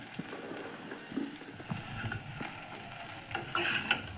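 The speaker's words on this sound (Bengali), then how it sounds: "তেলটা গরম হয়ে গেছে, এবার আমি কুলগুলো এর মধ্যে দিয়ে দিচ্ছি।" Jujubes dropped into hot oil for a pickle and lightly stirred, a soft steady sizzle with faint scraping of the spoon and a brighter burst of frying near the end.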